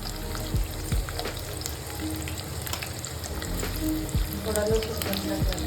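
Chopped onion frying in hot oil in a pan for Maharashtrian vatana matki curry, a steady close sizzle with occasional clinks and stirring scrapes, while a voice talks quietly in the background.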